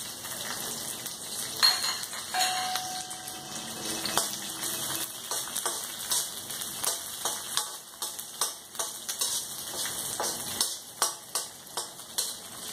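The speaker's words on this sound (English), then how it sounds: "I'll lightly fry the green chilies. To that I will add the garlic." Green chilies and garlic fry lightly in a pan over a low flame, giving a steady close sizzle with scattered ticking crackles and occasional scraping stirs, no voices.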